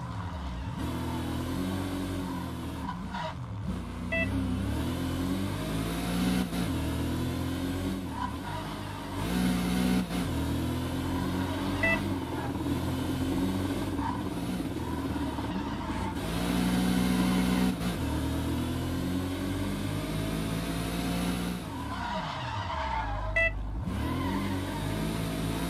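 A Mercedes W 196 race car in the World Racing video game revs through repeated rising and falling engine sweeps, loud and close, with gear changes and brief lulls over an endurance race.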